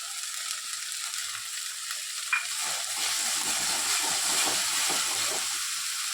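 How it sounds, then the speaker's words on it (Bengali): Raw mango and tomato sauce frying with spice paste in a pan give off a steady, loud sizzle, with a brief sharp tick near the middle and rougher bubbling that swells toward the end. "মশলটা হয়ে গেলে তারপরে আমি ওই কাঁচা আমটা ঢেলে দেবো একটু সস টমেটো সস"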